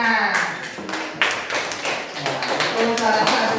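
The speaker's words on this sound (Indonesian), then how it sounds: "Tepuk tangan." A group claps hands together in a lively burst of applause in a classroom, mixed with voices and chatter throughout.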